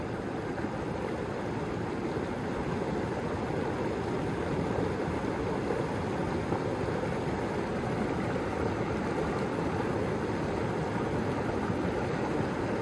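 Water washes and swirls continuously in a wooden gold-panning batea at a river's edge, a close, steady rushing flow that stays loud and unbroken throughout.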